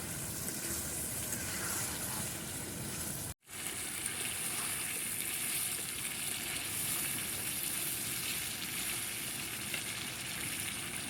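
Beef liver bhuna sizzles in a pot over a wood-fired stove, a loud, steady crackling fry close up that runs continuously apart from one momentary break, with no talking.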